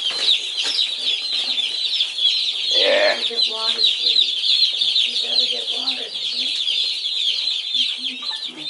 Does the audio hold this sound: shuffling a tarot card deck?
no